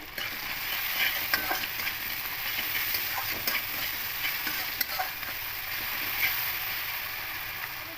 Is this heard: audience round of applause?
no